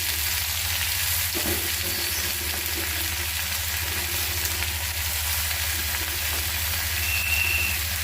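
Sliced bitter gourd fries in a pan for karela bhaji, a constant, even sizzle close by with no talking.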